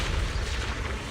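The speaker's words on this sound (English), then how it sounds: "Move in during the gap between explosions." Deep, rumbling explosions from the video game Zenless Zone Zero, a loud continuous boom with heavy low-end roar that barely lets up for a second, without any voices.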